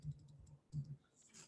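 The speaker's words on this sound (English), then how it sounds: "Man, I type pretty fast here." Fast typing on a computer keyboard: a faint, quick cluster of light clicks in a quiet room.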